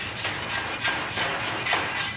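A metal spot is rubbed clean before arc welding, giving steady, rhythmic scraping strokes up close, with no talk.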